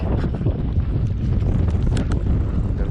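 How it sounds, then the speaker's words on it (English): Strong wind blows steadily across a microphone at a lake bank, giving a dense, loud rumble with gusty buffeting throughout. "if that wind will stop blowing"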